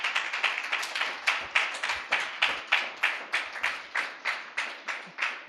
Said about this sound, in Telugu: ఒకసారి గట్టిగా చప్పట్లు కొడతారా?